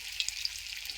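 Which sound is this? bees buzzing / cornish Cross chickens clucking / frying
frying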